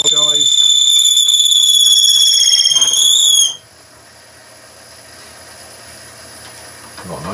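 A loud, piercing mechanical screech from a lathe while turning holds steady for about three seconds, then cuts off, leaving a low machine hum.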